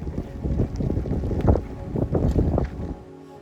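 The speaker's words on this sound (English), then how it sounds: "it is quite windy" Strong wind on a mountain trail in the White Mountains buffets the microphone in loud, rumbling gusts, then drops off abruptly at the end.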